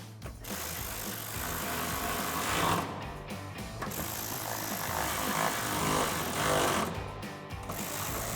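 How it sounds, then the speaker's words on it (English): Ratchet with an 8mm socket tightening bolts during a BDS 2-inch suspension lift install on a RAM 1500, a steady dense mechanical clatter running continuously throughout at close range with a few brief pauses. "Grab your ratchet and 8mm socket and tighten them down."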